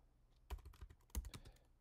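A few quick keystrokes on a computer keyboard while entering a build command. There are two short clusters of clicks, close and quiet, with near silence around them.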